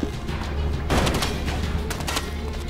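Grenades going off in the video game Elex make a loud booming blast followed by rapid crackling bursts, like a fusillade, with no talking over them.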